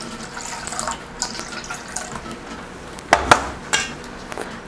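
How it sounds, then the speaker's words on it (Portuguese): Ice-cold water is poured into 400 grams of flour in a bowl for bread dough, a steady close trickle and splash punctuated by a few sharp clinks of the container. "vou colocar 240 de água gelada"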